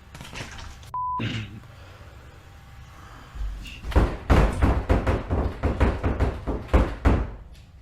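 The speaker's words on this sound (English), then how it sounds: "Is he punching the door?" A door is punched repeatedly with a rapid series of heavy, uneven thuds that build into a sustained pounding. A short electronic beep sounds earlier, before the blows begin.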